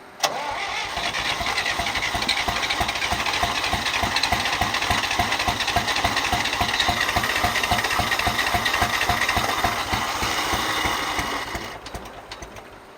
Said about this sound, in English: I like the way the exhaust sounds